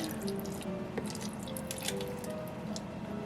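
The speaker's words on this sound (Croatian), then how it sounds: "Dodajem sok od limuna." Fresh lemon juice drips into a kitchen blender before water is added, a run of small, close wet drops and squishes over a steady low background hum.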